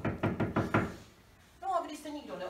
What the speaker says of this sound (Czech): Začukala na dveře.